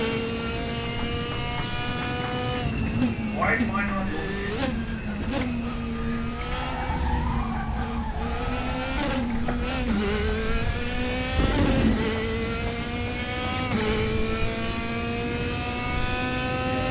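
The engine of a new SEAT Cupra hums and rises through revs from inside the car, with gear changes shifting its pitch up and down steadily throughout, no speech over it.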